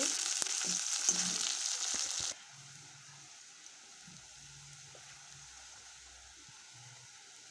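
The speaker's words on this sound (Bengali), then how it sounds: "এখন ভালো মতন পেঁয়াজটা নাড়াচাড়া করে ভাজা ভাজা করে দেবো" Loud, close sizzling of onions frying in oil with occasional stirring for a couple of seconds, then the sound drops to a faint, quiet simmer, while making a thin chicken curry.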